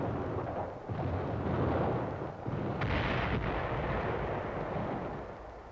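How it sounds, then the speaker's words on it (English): Heavy counter-battery artillery fire falls on British gun positions near Villers-Bocage in 1944, a loud continuous rumble of blasts on a dense, rough old wartime film soundtrack with no voices. "British artillery positions near Villers-Bocage under Nazi counter-battery fire."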